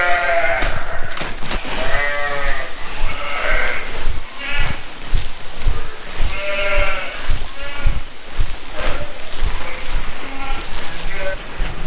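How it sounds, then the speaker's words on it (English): Sheep on a farm bleat loudly and repeatedly, several wavering calls overlapping close by, with a faint voice underneath. "Got some sheep to feed and keep happy."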